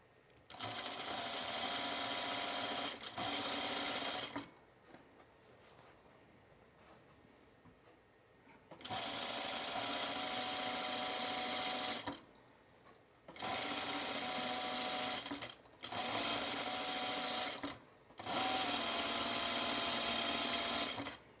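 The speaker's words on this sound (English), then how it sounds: "We're going to put a stay stitch around this perimeter edge" A sewing machine runs a stay stitch around the perimeter edge of interfaced fabric in about five separate bursts of steady mechanical whirring, with short quiet pauses between runs.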